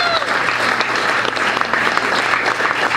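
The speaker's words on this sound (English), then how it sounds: "Please give yourself a round of applause." An indoor audience at a special-election victory speech for Ulster County Executive breaks into dense, loud, continuous clapping that fills the whole three seconds.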